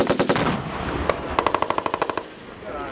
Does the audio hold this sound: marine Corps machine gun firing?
yes